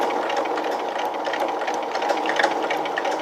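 A sewing machine stitches a straight line through fabric, its motor running as a steady, fast mechanical whir with a light rattle. It is loud and close, with no voices.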